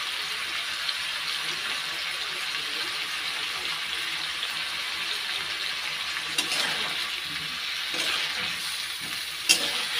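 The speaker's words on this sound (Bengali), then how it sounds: "নাড়াচাড়া দিয়ে ভালো করে একটু কষিয়ে নিই।" Food sautés in a hot pan with turmeric and salt, a continuous close sizzle broken by a few scraping stirs and clicks of a spatula, with no one speaking.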